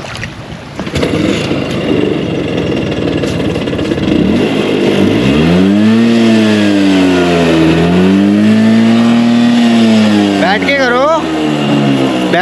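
A scooter idling on a gravel riverbed in a river, its engine revving up in repeated rising and falling swells, loud and close over rushing water and wind noise, with people talking nearby.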